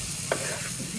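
Okra fries in oil with chilli powder, salt, mustard and cumin seeds in a Karnataka village kitchen. It gives a steady close sizzle, broken once by a quick scraping stir.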